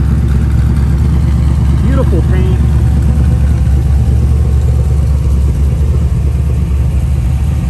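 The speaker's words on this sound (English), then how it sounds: "Hear the exhaust sounds great on this car." A 1933 Ford 5-window street rod idles loud and close, its exhaust a steady deep rumble throughout, while someone speaks briefly over it.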